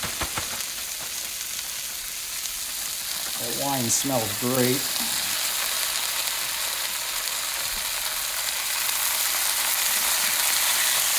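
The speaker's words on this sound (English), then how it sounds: "Got that nice sizzling sound." Hoisin-marinated pork for a spicy stir fry sizzles steadily in a hot pan, a continuous loud frying hiss throughout, with a brief spoken remark partway through.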